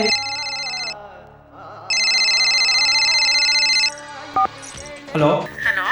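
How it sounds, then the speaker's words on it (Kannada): A mobile phone ringtone plays loudly in bursts of bright, repeating melodic tones, pausing briefly between rings before clattering handling noise at the end. "ಫೋನ್ ರಿಸೀವ್ ಮಾಡಬೇಡ"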